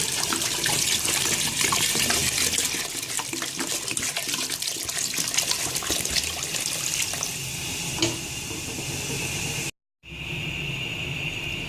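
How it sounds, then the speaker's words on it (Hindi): A jug of water pours steadily into a cooking pot of goat trotters in a full, splashing rush for several seconds, then cuts off abruptly before a quieter stream resumes. "अब इसमें पूरा 1 जग पानी का ऐड कर दीजिए।"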